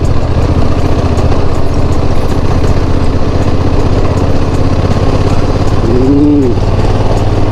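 A Honda NT1100 DCT motorcycle engine runs with a steady, loud low drone throughout, heard up close amid wind rumble while riding.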